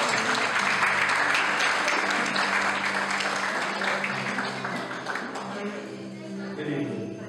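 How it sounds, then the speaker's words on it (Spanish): Guests at a baptism celebration give a performer a round of applause, loud sustained clapping from a room full of people that slowly thins and fades toward the end, with a few voices mixed in. "Un pequeño aplauso para mi artista."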